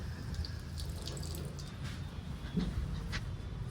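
Water splashes and patters softly and steadily as it is sprinkled by hand, a faint continuous wet spatter with a few louder drips, with no talking.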